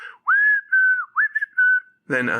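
A lone whistler carries a playful melody of several held and sliding notes from a film score, then a voice briefly cuts in at the end.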